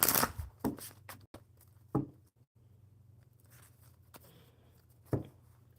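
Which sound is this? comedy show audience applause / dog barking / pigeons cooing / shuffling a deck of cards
shuffling a deck of cards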